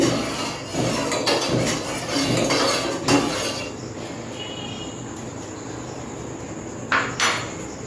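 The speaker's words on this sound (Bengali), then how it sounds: "একটু চামচ দিয়ে নেড়ে দিচ্ছি" A spoon stirs water in a metal pot on a gas stove while tea is being made, giving light scraping clinks in the first few seconds, then a quieter stretch with a faint high hum and one more brief clatter near the end.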